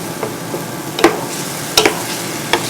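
Onions and minced garlic sizzle in a pan while a utensil stirs them, with several sharp scrapes and knocks over a steady frying hiss.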